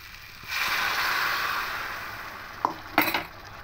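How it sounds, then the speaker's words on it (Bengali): Hot water poured into a pan of rice fried with spices for murir ghonto, a steady broad hiss and sizzle swelling for about two seconds, then fading, followed by a few sharp clinks of a utensil against the pan. "এবার এখানে গরম জলটা দিয়ে দেবো"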